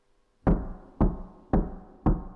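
Four evenly spaced, solid knocks in a video game, spelling out a Morse-style code, each a sharp loud thud with a short decaying tail, about half a second apart and with no talk.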